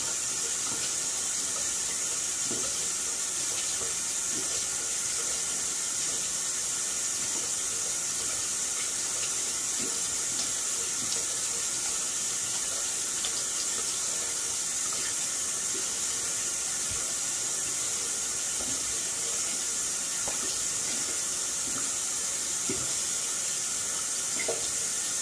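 Hot water runs steadily from a tap during a morning routine, a continuous broadband hiss and splash lasting throughout with no talking.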